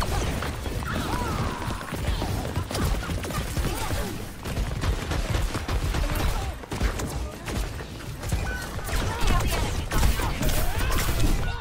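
Ashe's rifle in the Overwatch 2 video game keeps firing in a dense, continuous stream of gunshots and mechanical clacks, mixed with other battle noise and crashes at a constant loud level.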